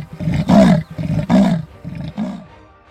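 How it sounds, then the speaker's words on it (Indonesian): A leopard gives deep, rough roars in three or four heavy, rasping bursts with short pauses between them, loud and close, with no voices. "Suara macan tutul lumayan berat dan bervariasi"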